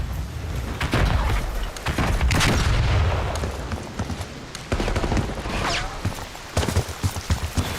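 Sharp, irregular bursts of gunfire in Call of Duty Warzone on the Verdansk map, close and punchy, with heavy booming impacts spaced through the stretch over a rumbling game background and little talk.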